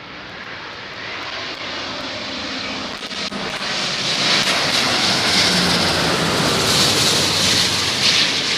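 An Airbus A350 airliner arrives at Heathrow in strong wind, its engines a broad, steady roar that swells louder as it nears and then holds, with no voices over it.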